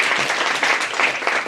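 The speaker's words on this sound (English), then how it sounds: "let's give that a round of applause" An audience at a book launch breaks into a round of applause, loud and close, with dense overlapping hand claps throughout the short burst.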